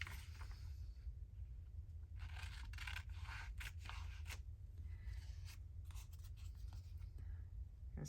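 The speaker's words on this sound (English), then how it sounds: "Snip my corners." Scissors snip the corners of old 1800s book paper for a journal, giving a quiet, close series of crisp cuts and paper scrapes with no talking.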